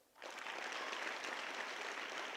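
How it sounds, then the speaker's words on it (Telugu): An audience at an education workshop breaks into applause, the clapping rising sharply from near silence into a dense, even patter that holds steady for a couple of seconds. "గట్టిగా చప్పట్లు కొడదాం"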